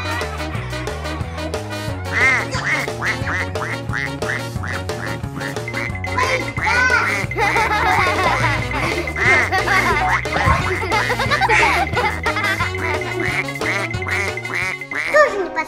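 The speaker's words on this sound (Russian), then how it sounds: "А как насчет уточки?" Cartoon-style duck quacks repeat in a quick rhythm over a continuous, loud backing of music, with no talking.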